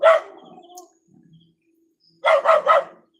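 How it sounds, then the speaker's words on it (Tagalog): A dog barks once near and loud, goes quiet, then fires off a quick burst of three sharp barks in a room at home. "Ang ingay ng aso namin, no?"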